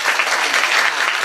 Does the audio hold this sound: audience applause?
yes